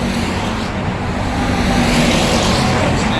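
Race cars roar around an oval track in a dense, continuous engine wash, loud and sustained with no pauses, the pitch shifting slightly as cars go by.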